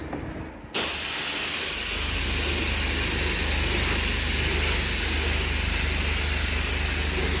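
A self-service jet wash pressure washer blasts a steady, loud, close hiss of high-pressure spray while rinsing car wheels, starting abruptly after a brief quiet moment and continuing unbroken.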